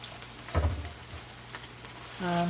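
Vegetables and tinned mackerel sauté in a pot with a soft, steady sizzle and a few louder stirring clatters. A brief hum or voice-like tone comes in at the end.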